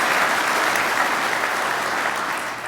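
An audience applauds steadily, a dense wash of clapping that holds evenly throughout and tapers only slightly at the end.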